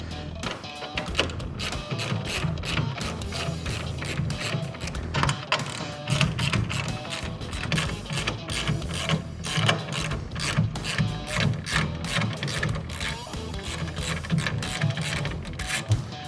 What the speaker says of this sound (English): we'll need to remove the 4 10mm bolts that hold the grille in place